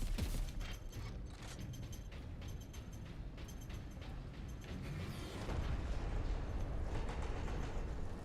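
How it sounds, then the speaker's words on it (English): A heavy mechanical door grinds open in Warhammer 40k Space Marine Master Crafted Edition, with ratcheting creaks, clanks and gear-like clatter rolling on for several seconds at moderate volume with no voice. "What just opened? I heard a door open"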